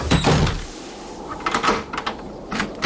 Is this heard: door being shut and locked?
yes